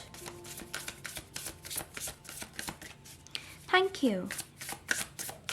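Tarot cards are shuffled in crisp rapid riffles, a steady series of papery flicks, while a voice briefly speaks partway through.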